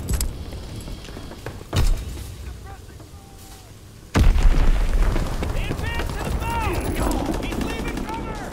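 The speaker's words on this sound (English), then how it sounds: "Dropping Azon bomb." A bomb drop and explosion in the Call of Duty WW2 game: a sharp boom, then a heavy blast that swells into a sustained rumbling roar, with chirping game effects and distant crackle over it.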